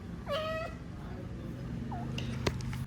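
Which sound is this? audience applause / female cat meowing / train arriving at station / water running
female cat meowing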